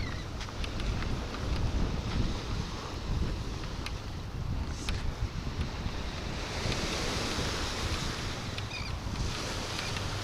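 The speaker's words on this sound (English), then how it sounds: "I told y'all it was windy." Steady wind roars across a Florida beach with seaweed washed up by the blow, surf breaking continuously underneath and gusts buffeting the microphone; no voices.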